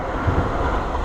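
Small Nankai train passing a road crossing in Japan, a brief rumbling roar heard up close amid wind buffeting, steady and loud without voices.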